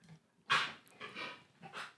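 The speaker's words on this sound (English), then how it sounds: "That was my dog Ziggy coughing up something just now." A dog's short bursts of hacking and wheezing, two or three rough coughs with snuffly breaths between, close by and fairly quiet.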